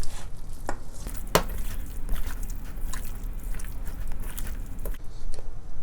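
Pork spare ribs are tossed with oil and dark soy sauce in a bowl, giving close, wet squishing and slapping sounds with occasional sharp clicks against the dish.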